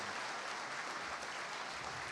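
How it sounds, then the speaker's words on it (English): Round of applause at an awards evening after the curriculum awards, a steady wash of many hands clapping, faint and distant, without a break for about two seconds. "let's do one more round of applause for everybody"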